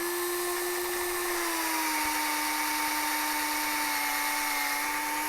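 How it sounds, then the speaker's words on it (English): A drill bores into a wooden ladder rung with a loud, steady high-pitched whine whose pitch sags slightly as it bites into the wood, continuous and close with no talking. "So that's just drilling into there."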